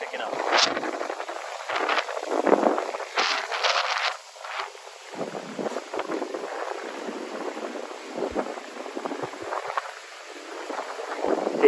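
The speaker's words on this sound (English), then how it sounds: "the wind is picking up." Wind gusts outdoors in Miami, rushing and buffeting against the microphone in uneven surges, and a voice talks over it.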